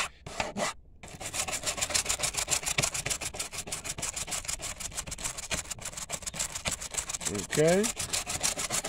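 Back to Black trim restorer rubbed by hand across faded black bumper trim, a close, steady rhythmic scrubbing that runs continuously after a short pause, with a brief spoken word near the start.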